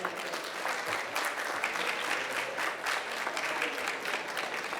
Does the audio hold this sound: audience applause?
yes